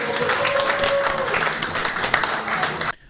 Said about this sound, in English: please put your hands together for the Mr. Funny, Tom Myers.